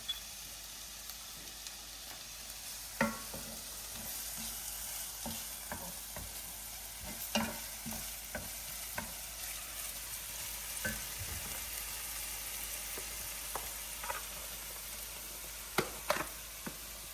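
Red peppers fry in a pan, a quiet, steady sizzle broken by scattered clicks and taps of stirring that come at irregular intervals, with no talk.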